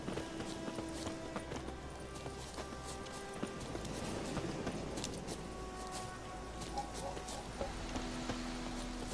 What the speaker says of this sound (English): you have to double tap the stick to call the horse